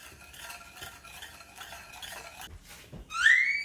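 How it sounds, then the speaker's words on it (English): A spoon stirs sugar caramelizing in a pan for churros, soft scraping strokes repeating at an even pace, fairly quiet and close, ending in a short higher scrape. "I've been stirring this for about 5 minutes."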